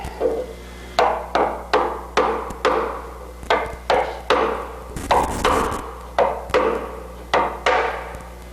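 Regular, sharp hammer blows strike in a steady rhythm, about two per second, loud and close, with a brief scuffling pause midway, during aircraft kit canard and elevator work.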